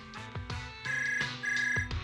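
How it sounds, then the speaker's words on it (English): A reporter's mobile phone rings at a scene in a video game set in New Eridu, with a short electronic ringtone of repeating tones, fairly quiet and heard alone. "The reporter's phone on the scene suddenly starts ringing."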